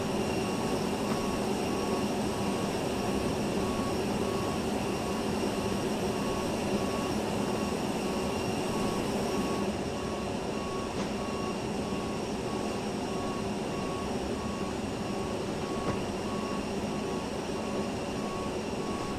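An airliner's auxiliary power unit runs in Microsoft Flight Simulator, a steady, unbroken mechanical whine and roar that holds at an even level throughout with no speech.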